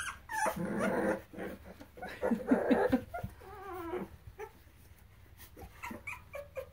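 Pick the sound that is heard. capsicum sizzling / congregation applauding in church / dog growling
dog growling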